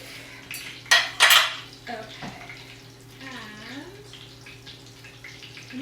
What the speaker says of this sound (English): I'm gonna get a plate. My serving cutting board. Knife and fork.